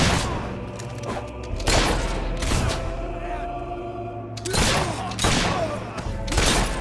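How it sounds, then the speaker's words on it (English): Gunfire in the video game Fable 3 comes as several bursts of loud, booming shots separated by short pauses, over a steady game background. "Suckers shooting at us!"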